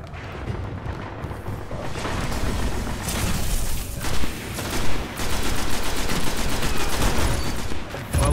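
Rapid bursts of gunfire with heavy booming explosions from a grenade in the Destiny video game, loud and continuous with a couple of sharper blasts midway.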